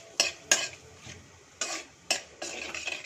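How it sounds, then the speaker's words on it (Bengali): A spoon scrapes and clinks in a pan of spices and asafoetida for Bengali aloo dum, several sharp metallic strokes at uneven intervals over a light frying sizzle. "হিংটা দিয়ে একটু নাড়িয়ে"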